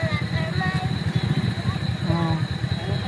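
A motorcycle engine runs close by with a steady, pulsing putter while people talk over it.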